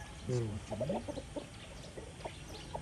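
A chicken clucks and squawks several times close by, short rising calls in a quick irregular series over faint background noise.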